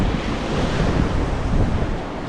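Sea waves at Bhandarpule beach, heard from a distance: a steady, broad surf wash with wind noise buffeting the microphone, continuous throughout with no voices.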